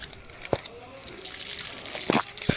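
Small amounts of water poured onto the soil of a potted jasmine plant, soft trickles and a few sharp splashes near the start and end over a quiet background.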